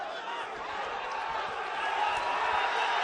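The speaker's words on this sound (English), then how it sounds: "You can hear the crowd here." A broadband roar from the crowd at an MMA bout between Ibragim Magomedov and Umar Gaisumov, steady and fairly loud throughout and swelling slightly toward the end, with no clear voices standing out.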